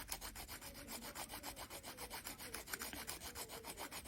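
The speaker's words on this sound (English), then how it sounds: "it's just half round with 100 grit, German grit, sandpaper wrapped around it." A half-round sanding stick wrapped in 100-grit sandpaper rasps back and forth over polymer clay in quick, steady, rhythmic strokes, faint and close with no talking.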